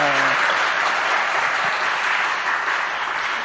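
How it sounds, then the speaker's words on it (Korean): A church congregation applauds loudly and steadily to welcome a pastor, sustained clapping filling the room for several seconds without letting up. "하나님을 찬양하는 그런 할렐루야 하면서 박수로 환영합시다"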